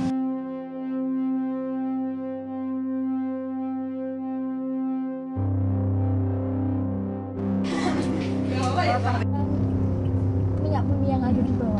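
An old diesel truck engine drives a traditional oil drilling rig in Kampung Tumo, humming in a steady tonal drone that deepens and grows louder midway, then clanking, rattling mechanical noises pile on top.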